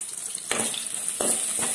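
Cumin seeds frying in hot oil for a chow chow kootu, a soft continuous sizzle with a few sharper crackling bursts as they pop, close by and without talk.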